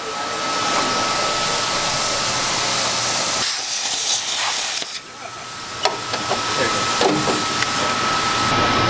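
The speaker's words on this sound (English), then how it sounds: "We're going to vacuum this out," A loud, steady roaring whoosh of a shop vacuum running continuously while cleaning out an MGB GT after plasma cutting, with broadband hiss that dips briefly midway and then resumes at full strength.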